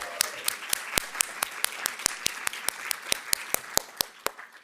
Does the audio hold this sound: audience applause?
yes